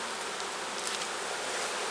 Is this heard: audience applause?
no